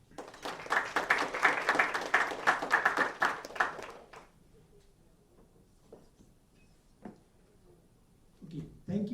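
Dense round of clapping from a dinner audience at an awards celebration, steady and fairly loud for about four seconds, then breaking off into near-quiet with a few scattered claps and faint voices.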